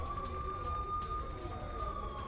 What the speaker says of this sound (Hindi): श्रीनगर के कुछ इलाकों में अब सायरन बज रहा है।